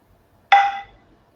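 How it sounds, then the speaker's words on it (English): A single soft tap-like chime rings once during a guided breathing exercise, a short bright ping that fades within half a second in an otherwise quiet room. "And the next tap noise you hear will be the last one."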